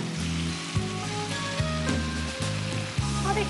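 Dried red chili paste sizzles steadily in a hot pan, a dense crackling hiss with small pops. Soft clinks of a utensil against the pan recur through it and no one speaks.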